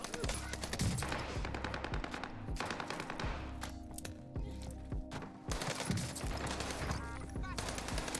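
Bursts of MG82 light machine gun fire in Warzone on Rebirth Island, rapid automatic strings repeating over the whole stretch amid other game gunfire, with players talking underneath.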